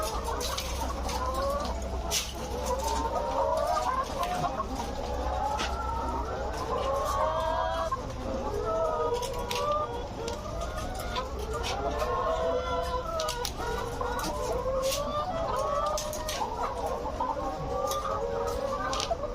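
Poultry on a farm cluck and chatter continuously at close range, several birds overlapping in busy repeated calls over a low steady hum, with occasional sharper clicks and knocks.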